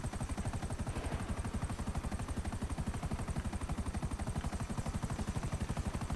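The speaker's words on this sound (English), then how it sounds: "This chopper's got missiles on it." In GTA V, a missile-armed helicopter's rotor beats in a fast, steady chop for several seconds, moderately loud and unbroken, with no voices over it.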